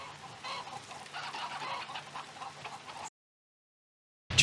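Chickens cluck softly in a video game, with a steady ambient bed behind a few scattered clucks for about three seconds before the sound cuts to silence.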